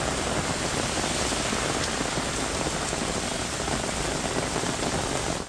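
Heavy night rain pours down across Hyderabad as a dense, loud, steady roar of drops hitting surfaces, with no break throughout.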